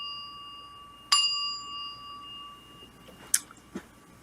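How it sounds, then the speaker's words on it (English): A small hand bell is struck once, its clear ring hanging and fading over a quiet room, followed by a couple of faint clicks and knocks. "Little bell, right?"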